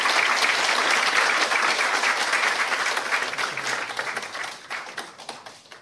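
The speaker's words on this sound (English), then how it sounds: "Can we have a round of applause," An audience at the grand opening of a new building in Singapore breaks into loud, dense applause that holds steady and then gradually thins and fades over several seconds.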